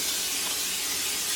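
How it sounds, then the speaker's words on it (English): Cooking spray hisses from a can into a slow cooker crock pot, a short, steady, close aerosol spray lasting just over a second with no talk. "I'm going to spray the crock pot first"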